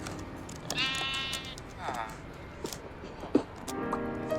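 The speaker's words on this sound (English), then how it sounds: "Now, Robert, be a good sheep, okay?" Minecraft sheep bleating in short wavering calls, a few times within a few seconds, close and clear amid game sounds, with a person talking over parts of it.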